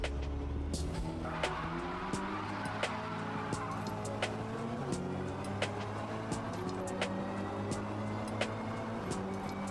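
Game car launching hard in Forza, held around 4,000 to 4,500 RPM off the line, steady engine drone with faint tyre squeal and wheel spin rising across the run, loud and continuous with no talk.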